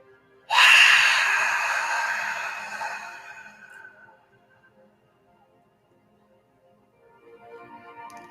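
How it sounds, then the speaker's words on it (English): A single slow, audible breath: air drawn in through the nose, then released as a long, fading exhale through the mouth, alone in a quiet room. "Inhaling in your nose, feeling your belly rise. And exhale out your mouth."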